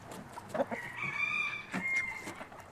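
A rooster crows once, a long drawn-out cock-a-doodle-doo with a clear, ringing tone at moderate distance, set against a snowy backyard flock where a duck is nearby in the water.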